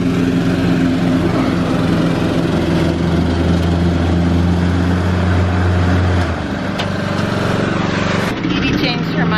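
Lawn mower engine running steadily at a backyard mowing session, a loud close drone that drops off near the end, with people talking over it.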